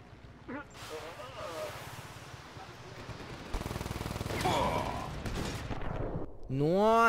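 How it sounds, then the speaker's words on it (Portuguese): Explosions and gunfire in the open-world action game Just Cause 3, with a burst of blasts and shots rising into a loud, dense rumble midway through, mixed with game effects while someone talks over it. "foi uma explosão tão grande que eu morri"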